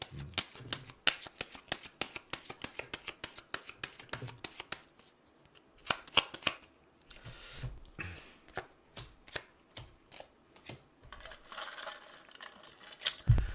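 Tarot cards being shuffled by hand, a long run of quick crisp riffles and taps with brief pauses, close and clear with no talking.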